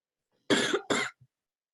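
Two sharp coughs in close succession, near and loud, followed by a faint short throat sound, then silence during an online class.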